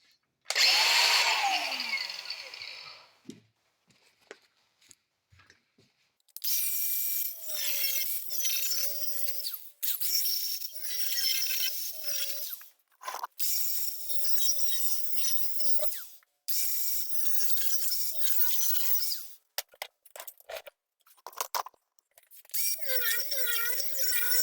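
A power tool cuts out a metal panel on a 1948 Willys pickup, running in several loud bursts of high whining grind and screech, each a few seconds long, separated by short pauses and rattles.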